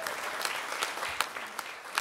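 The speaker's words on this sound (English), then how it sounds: "So big round of applause for her." Close, steady audience applause with a few sharper individual claps standing out, continuing without a break.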